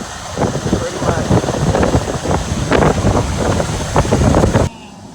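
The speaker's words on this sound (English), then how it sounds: "You can see how strong the wind is pushing." A strong wind roars and buffets hard against the microphone beside a jackknifed truck after a skid on black ice. The gusting is loud and continuous, then cuts off suddenly near the end.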